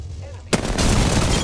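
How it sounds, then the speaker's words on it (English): Gunfire in the Call of Duty Warzone video game: a sudden loud burst of shots followed by sustained dense rattling fire that continues to the end. "Opening fire on the enemy."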